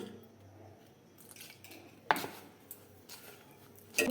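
Dough being mixed with a little salt and ghee gives soft, quiet squishing and scraping, broken by a couple of sharper clinks against the bowl, with no one talking.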